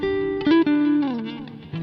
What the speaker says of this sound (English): what you're hearing now is basically Chong playing the guitar into the PA 700 using the PA 700 guitar effects